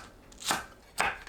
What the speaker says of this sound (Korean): 파를 길게 반 가르고 어슷 썰어주세요